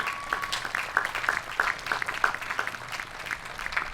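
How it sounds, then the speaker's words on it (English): A graduation audience claps throughout, a steady mid-distance patter of many hands filling the space without voices. "can we please give them a huge round of applause for their hard work?"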